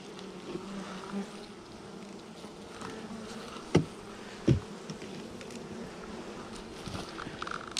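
Honeybees hum in a hive that a swarm moved into, a faint continuous buzz with a couple of sharp knocks partway through and no voices.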